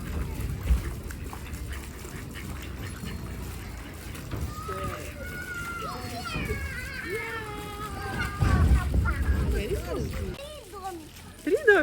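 Ducks quack several times around an autumn pond, mid-distance, mixed with other animal calls while people talk nearby and water and outdoor background noise fill the scene.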